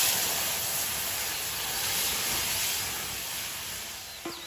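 Arhar dal poured into hot oil spiced with bay leaf, dried red chili, ginger, green chili and tomato gives off a steady, broad sizzling hiss that stays close and fairly quiet throughout, with a faint knock near the end.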